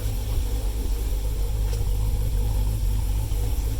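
Dodge SRT with a 392 V8 idling with a lopey, uneven rumble, heard from inside the car as a steady, close, loud low throb with slight rhythmic pulsing and no talk over it.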